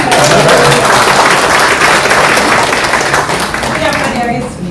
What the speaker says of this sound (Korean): 하고 박수 한번 주세요.